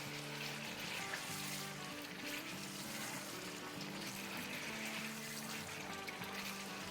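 Chicken with yogurt fries and sizzles steadily in a pan on high heat, a continuous close crackle under low background hum and faint music-like tones, with no talking.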